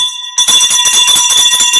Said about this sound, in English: I'll ring the bell for Spurry Lee.